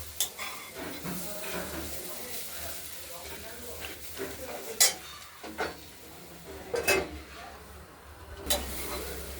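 Thin strips of beetroot, carrot and sweet potato frying in a pan are stirred, a soft sizzle under scattered utensil scrapes and clinks against the pan.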